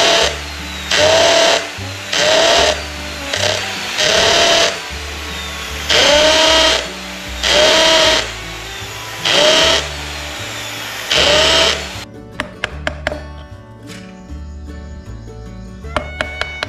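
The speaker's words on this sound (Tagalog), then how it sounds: "Ginamitan ko na rin ng barena, tinadtad ko siya ng butas para mas madaling ukitan." A power drill boring holes in wood for carving a wall clock whines in repeated short bursts with brief pauses between, loud and close, followed by scattered clicks and taps.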